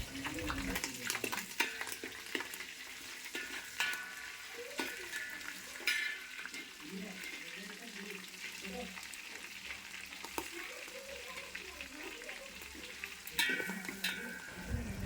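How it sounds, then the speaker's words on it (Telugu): Onions and green chilies fry in oil with whole biryani spices for chicken dum biryani, giving a steady close sizzle with intermittent scraping stir strokes and a few utensil clinks throughout. "బిర్యానీ దినుసులు వేగిన తర్వాత అందులో ఉల్లిపాయలు, పచ్చిమిర్చి వేసి వేయించుకోవాలి."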